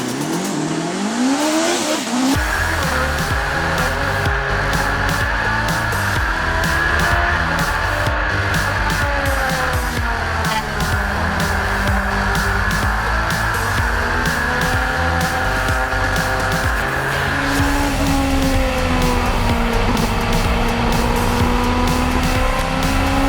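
Turbocharged 300-horsepower race car climbing the Pikes Peak hill climb course, engine roaring loud and steady throughout with rising and falling revs, gear changes and tire squeal, no voices.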